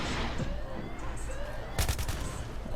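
Gunfire and a grenade blast in a first-person shooter video game, a sudden sharp burst of rapid shots with a dense rumble, heard against steady background game noise.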